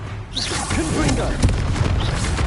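A Confringo fire spell bursts in Hogwarts Legacy, a dense, booming blast with a rushing roar that fills the whole stretch, heard beneath shouting voices.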